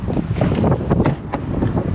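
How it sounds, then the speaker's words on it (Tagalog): Strong wind buffeting an unshielded microphone outdoors, a continuous loud rumbling roar with gusty surges throughout and no voices. "lakas ng hangin."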